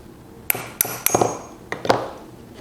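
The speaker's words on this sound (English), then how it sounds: "if there's a through hole, you can typically just use a nail set" Hammer tapping a nail set through a drill press spindle's through hole to knock the arbor out of the drill chuck, several sharp metallic strikes spaced irregularly, some ringing briefly, in a quiet workshop.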